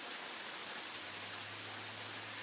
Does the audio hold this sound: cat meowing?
no